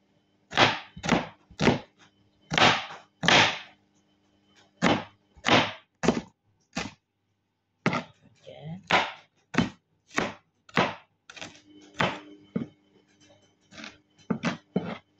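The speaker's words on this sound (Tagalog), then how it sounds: "maghiwa ta og sibuyas bombay" A knife chops a red onion on a board in a series of sharp, close thuds in an uneven rhythm, with a brief pause midway before the cutting resumes.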